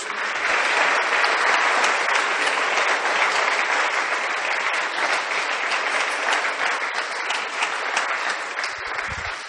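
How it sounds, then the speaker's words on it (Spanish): A church congregation breaks into loud, sustained applause, dense continuous clapping that fills the whole stretch evenly with no voice standing out. "Dale un aplauso a Jesús."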